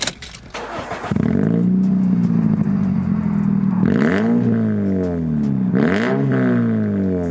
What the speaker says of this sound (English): Now, let's start the engine,